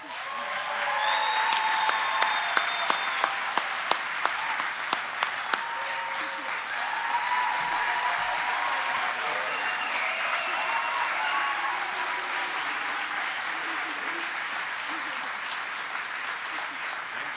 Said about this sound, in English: let's give one more big round of applause for this graduating class